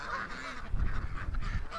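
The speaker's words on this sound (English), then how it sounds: "3 Canada geese. Oh, there's a fourth one right there." Canada geese honking outdoors, with several calls scattered over a low rumbling background; the honks sit moderately far off and blend with ambient noise rather than standing out sharply.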